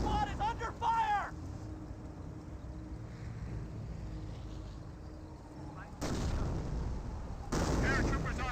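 Gunfire and artillery rumble through a World War II battle in the strategy game Company of Heroes, steady distant booms and bursts under frequent talking voices, with louder blasts toward the end.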